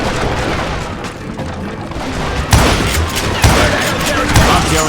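Bursts of gunfire in the Wild West shooter Call of Juarez Gunslinger, loud shots and booms over a dense, noisy game soundscape, with heavier cracks landing near the end.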